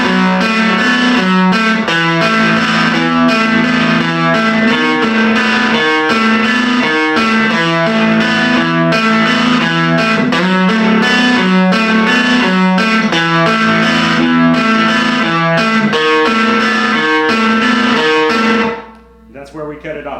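A loud, distorted electric guitar plays a riff, steady and rhythmic with chords ringing over a low repeating figure, then cutting off abruptly near the end.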